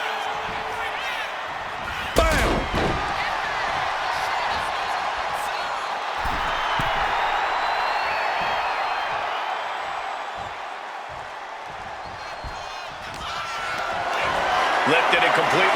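A wrestling arena crowd in WWE 2K25 cheers in a steady, dense roar that swells near the end, with an early impact thump and a commentator talking over it.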